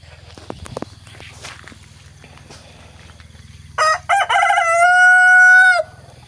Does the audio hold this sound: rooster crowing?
yes